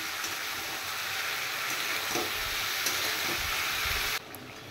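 Ginger, cumin, coriander, green chilli, salt, turmeric and a little sugar sizzle steadily in hot oil for a shola kochu curry, with a dense close frying hiss and occasional scraping stirs, stopping abruptly near the end.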